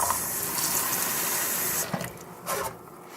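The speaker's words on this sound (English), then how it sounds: "Get some water in that." Tap water streams steadily from a kitchen faucet into a bowl of oats, a loud close hiss that breaks into splashy bursts as the flow shifts near the end.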